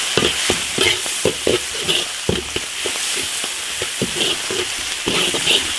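Pickled vegetables, ginger and pickled chilies stir-fried in an iron wok, with a steady loud sizzle broken by repeated scraping strokes of the spatula.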